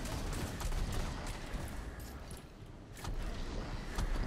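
Praguejante exotic grenade launcher firing in Destiny 2, a rough series of thumping shots and blasts with crackling bursts, moderately loud and fairly steady, briefly dipping midway before resuming.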